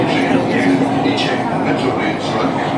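A long Kolkata Metro train, heard from inside a carriage running under the river, gives a steady loud rumble and roar with hissing air that holds even throughout.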